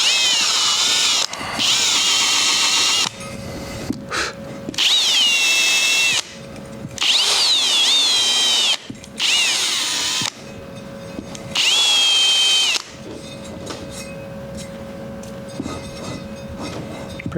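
A power drill, likely fitted with a wire brush, scours rust off a lawn mower's steel wheel rim in several loud, whining bursts with short pauses between them, close by and with no talk.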